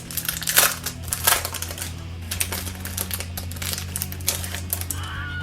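A board game box is opened and its plastic packaging is handled, giving a series of irregular crinkles and crackles, close and fairly loud, with no talking.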